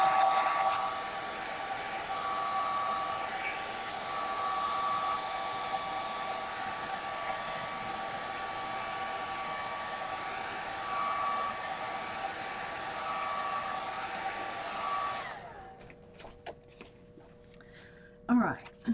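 Hair dryer blowing steadily on a freshly pulled Gelli plate print, a loud continuous close whoosh for about fifteen seconds before shutting off, followed by a few faint handling knocks.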